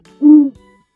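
A single owl hoot, loud and close, with a clear tonal body lasting about a quarter second and a faint trailing tone afterward, set in a city park.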